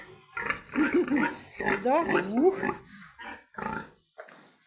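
A young boar on a farm grunts and squeals in short bursts, close and fairly loud, several throaty calls with brief gaps between them.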